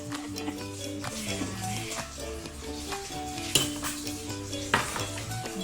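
Ukoy bean sprout batter is mixed with water in a bowl, with continuous clattering, scraping and stirring and two sharper knocks near the end, close and busy, with a low tonal hum running underneath.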